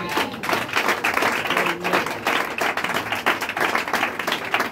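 A church congregation claps and cheers during a French-language sermon, a lively, steady burst of many hands clapping with rhythmic accents throughout, fairly close and loud with no speech over it.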